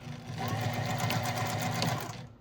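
A sewing machine stitches the boxed corners of a small zippered pouch, a fast close rhythmic whirr of needle strokes running steadily for a couple of seconds before stopping.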